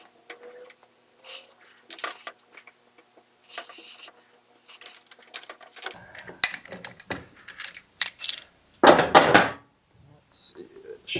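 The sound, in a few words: gear puller removing part on Cub Cadet RTZ 50 mower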